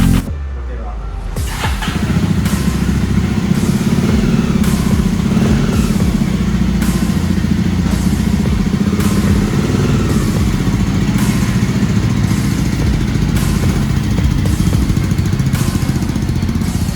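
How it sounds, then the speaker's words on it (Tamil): After a brief click, a 2025 Jawa New Classic 350 motorcycle starts and settles into a close, steady idle with an even, thumping single-cylinder pulse, and someone speaks over it. "Java new classic 350."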